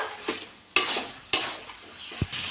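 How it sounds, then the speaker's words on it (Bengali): A pan of cabbage and potato curry with ground cumin, coriander, pepper and garam masala is stirred, with a soft sizzle under sharp spoon scrapes and a few clinks against the pan, no voices. "নেড়ে চেড়ে নেবো।"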